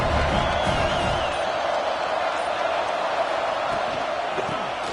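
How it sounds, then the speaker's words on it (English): A large stadium crowd in an NCAA 26 college football video game, Louisville vs Washington, roars in a steady, distant wash of noise, with a faint whistle and murmured voices mixed in. "Listen to the crowd energy here in the early going."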